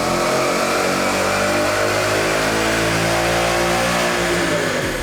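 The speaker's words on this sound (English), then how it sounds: "we're gonna make another hit here with the 2015 GT behind me" A 2015 Ford Mustang GT with a six-speed and a cold air intake revs hard on a chassis dyno in a workshop. The loud, close engine climbs steadily in pitch through the run and then cuts off, with no voices over it.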